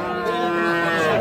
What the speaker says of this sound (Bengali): এইটাও একটা বকনা বাছুর